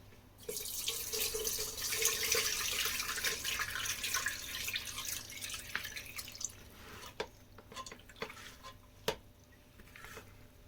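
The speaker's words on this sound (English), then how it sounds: "I'm just about to drain this water off them through the sieve" Starchy water drains off grated potatoes through a sieve, a steady splashing pour for about six seconds, followed by scattered drips and light clinks of the sieve and bowl.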